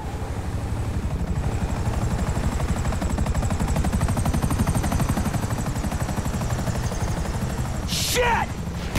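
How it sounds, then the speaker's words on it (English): A Grand Theft Auto 5 helicopter thumps loudly and continuously, its rotor chop steady and close throughout, with a brief burst of other game noise near the end. "Great! Another chopper!"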